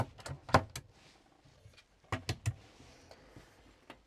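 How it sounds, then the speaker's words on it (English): Overhead cupboard doors in a Coachman Sportivo 565 motorhome are pressed in and popped open, giving sharp, close clicks and knocks in two small clusters, with soft talking between them. "These you just press in and pop open."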